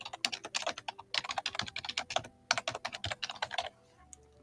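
Quick bursts of keystrokes on a computer keyboard, close and crisp, tapping in uneven runs with short pauses between them, with no talking.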